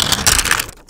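Plastic protective film stripped off the back of a new Samsung Galaxy S4, a continuous close, crackly tearing rasp lasting under a second before cutting off.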